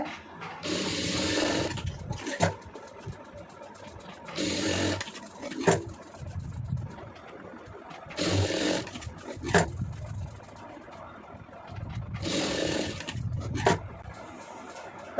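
A sewing machine stitches the lining of a blouse in several bursts of a few seconds each, separated by short pauses and clunks as the fabric is repositioned, fairly close and steady.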